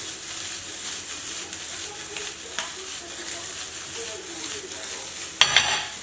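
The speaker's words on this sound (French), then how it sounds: "je prends le poulpe qui est déjà cuit, donc hein, je le rajoute dedans. Et je le mélange bien au milieu." Already cooked octopus is stirred into a sizzling pan, a constant close frying hiss with occasional soft scrapes and a clatter of utensil against the pan near the end.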